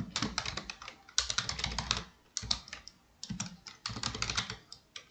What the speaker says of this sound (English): So we can type say hello there.